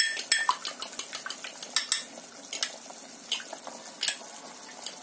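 An egg being beaten with a utensil for Egyptian-style chicken soup, quick rhythmic clinks and taps against a bowl, close and crisp, in a fast run at first and then in slower scattered strokes.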